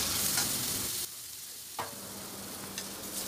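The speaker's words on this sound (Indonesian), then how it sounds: "Kemudian masukkan daging ayamnya. Ditumis-tumis dulu hingga berubah warna ya." Garlic and chicken meat stir-fried in a pan, a steady close sizzle with brief stirring scrapes and clinks, loud at first, then dropping slightly and continuing evenly.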